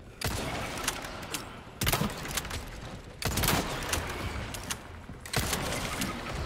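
Gunfire from Luis's gun in Resident Evil 4 Remake comes in four sharp bursts spaced about a second and a half apart, each followed by a rattling, mechanical tail.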